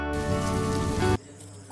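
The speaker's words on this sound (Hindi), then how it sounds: "कुछ ही दिनों में बारिश शुरू हो जाती है" Steady rain falls on a village, a dense, even hiss that runs loud and continuous for about a second before dropping abruptly to a faint background wash.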